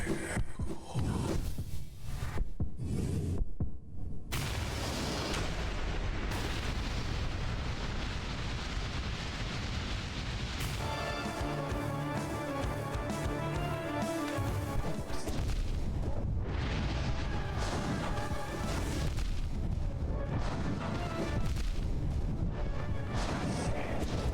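Loud, dense roaring blasts and crashing impacts from a fire attack striking the player in Hollow Knight, a sustained wall of noise with sharp bursts near the start, no speech.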